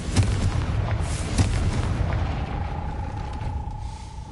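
Spell blasts of Bombarda and Confringo striking a gate in a Hogwarts video game, a series of booming explosions with rumbling low-end impacts in quick succession, followed by a fading sustained tone.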